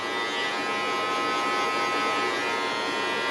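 Electric hair clippers buzz steadily and close up while cutting a high taper fade with the 1 guard, a continuous even drone with no talk over it.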